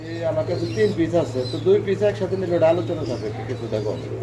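Fancy pigeons for sale cooing at close range, low warbling coos repeating under a voice, with a steady electrical hum in the background.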